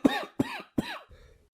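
A man coughs loudly three times in quick, evenly spaced, harsh bursts, close by, then trails off into a softer wheezy breath.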